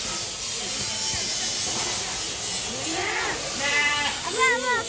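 Goats bleating at a zoo in Malaysia, several wavering calls rising toward the end over a loud hissing background, with people's voices around them.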